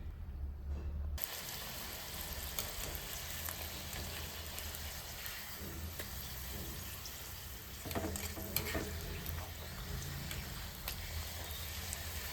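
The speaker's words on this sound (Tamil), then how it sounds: "பூரியை வந்து எண்ணெயில் விட்ட உடனே இந்த மாதிரி பொரிஞ்சு அழகாக உப்பிட்டு வந்துருக்கு பாருங்கள்" Puri deep-frying and puffing up in hot oil, a steady close bubbling sizzle that fills the whole stretch, with a few brighter crackles and a faint low hum underneath and no voices.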